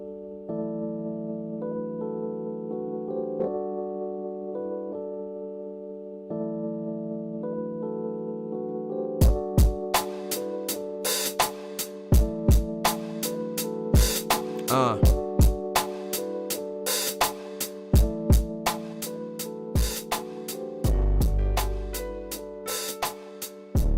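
A beat programmed on a Native Instruments Maschine MK3 opens with sustained harmonic synth chords alone, then sharp drum hits and percussive transients kick in around the ten-second mark over the chords, building a steady rhythmic groove, loud and close.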